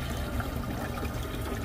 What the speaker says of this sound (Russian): Тут кнопочка. И водичка течет.